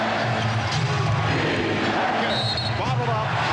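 Home crowd at Game 6 of the 1996 NBA Finals between the Chicago Bulls and Seattle SuperSonics cheering loudly and steadily, with a basketball bouncing and play-by-play commentary over the roar.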